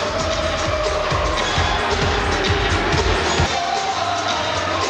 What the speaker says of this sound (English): Always a lively crowd in this building.